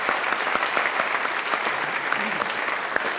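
Audience at a nonprofit annual conference claps steadily throughout, a dense continuous applause with sharp individual claps standing out, fairly close and loud.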